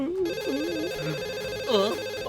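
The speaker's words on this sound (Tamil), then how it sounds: "நான் இந்த ஃபோன் கால் அட்டன் பண்ணிட்டு வந்துடுறேன்" A cartoon telephone rings with a bright, warbling electronic tone that repeats several times, loud and close, with no voices over it.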